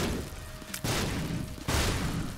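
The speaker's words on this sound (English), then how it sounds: "And then we've got explosions and stuff happening all over the place." Bomb explosions in The Binding of Isaac: Afterbirth+, two loud broadband blasts in quick succession, each followed by a sustained rumbling wash of noise.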